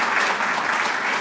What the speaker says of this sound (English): That deserves a little bit of a clap